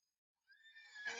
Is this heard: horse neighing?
yes